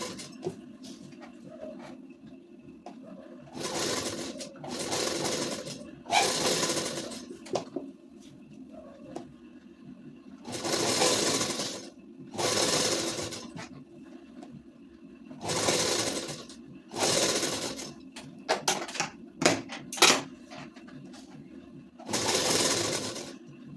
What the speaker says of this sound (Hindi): इस तरीक़ा से ऐसे लेस को करके फिर चलाएंगे सिलाई यहाँ तक